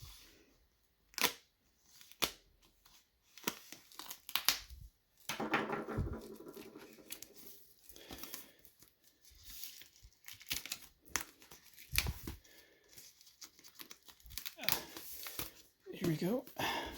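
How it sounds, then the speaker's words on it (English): Plastic shrink wrap torn and peeled off a 7 LP vinyl record box set, heard as scattered crinkling rips and bursts of tearing spread across the stretch, close and moderately loud. "take the plastic off this"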